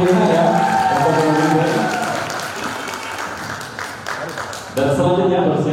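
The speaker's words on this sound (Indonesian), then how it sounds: "Boleh tepuk tangan yang meriah ya" Audience clapping at a junior high school museum quiz competition in Tana Tidung, a steady wash of applause that thins midway, then swells again before talk resumes at the end.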